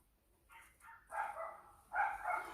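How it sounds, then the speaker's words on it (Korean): A dog barking from inside a parked car, heard as several muffled, moderately loud bursts of yips and barks in quick succession, growing stronger toward the end, with no talking. "제가 차에다 잠깐 놔뒀더니 막 엄청 짖네요"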